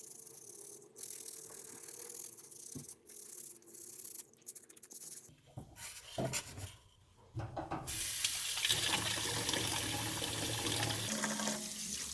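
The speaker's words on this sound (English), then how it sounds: "I went in there with one more quick second wash, used our fingernail brush as well." Water running from a tap over hands being scrubbed with a fingernail brush, with brief brushing and rattling first and a louder steady rush of water filling the last few seconds, close by with no talking.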